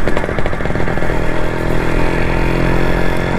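Modified Hero Honda Max100 motorcycle engine running close by with a loud, steady, rapid putter at idle.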